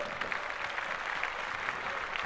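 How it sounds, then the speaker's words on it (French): A studio audience applauds the contestants on a French classics quiz show, dense continuous clapping at moderate distance that holds steady without pause. "On les applaudit bien fort."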